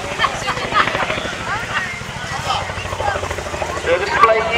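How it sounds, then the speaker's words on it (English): An RAF Chinook, an extremely large twin-rotor helicopter, flies a display with a steady rotor thud and broadband roar throughout, loud and continuous, with a voice talking over it. "this extremely large helicopter"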